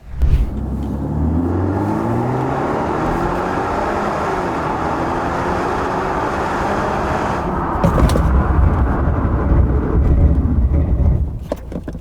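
A 2021 Mercedes E350 4Matic mild hybrid braking to a complete stop on a cold, damp road: loud, close road and engine rumble that holds steady, then ends in a brief, sharp noise as the car stops.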